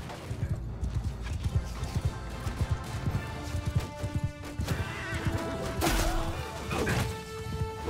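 Cavalry horses galloping in the video game Mount & Blade II: Bannerlord: dense, rhythmic hoofbeats pounding close and loud, with whinnies and clashing impacts mixed in over a steady battle din.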